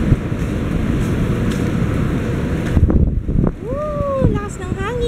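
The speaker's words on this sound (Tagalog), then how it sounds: "Lakas ng hangin!" Heavy wind buffets the microphone with a low, roaring rumble, and a voice then speaks excitedly over the gusts.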